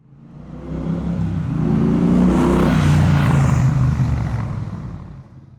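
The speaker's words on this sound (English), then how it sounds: "I am riding today with Elena behind me" A motorcycle ridden on a road approaches, roars past loudly with a rising and falling engine drone, and fades away within a few seconds.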